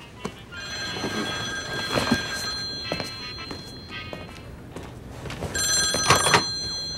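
A telephone rings indoors in repeated electronic trills, two bursts spaced a few seconds apart. Soft thumps and footsteps are heard between the rings, and no one speaks.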